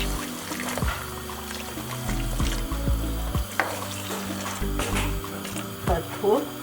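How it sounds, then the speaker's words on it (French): Hot water is poured into a cooking pot of chicken, a splashing, bubbling pour with sizzling and clinks of the pot heard close, while a person talks over it. "Nous allons ajouter un peu d'eau chaude."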